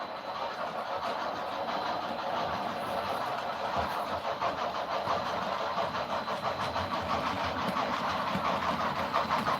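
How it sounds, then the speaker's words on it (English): Three model train locomotives running together as a triple header on a layout, producing a continuous overlapping rumble and chugging with steady rhythmic pulsing, moderately loud and close with no voices. "the sound of the engines overlapping with a triple header is really cool to listen to"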